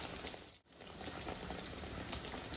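Bread pieces fry in hot oil in a small wok, a soft continuous bubbling sizzle with faint pops, heard close and quiet with no talking.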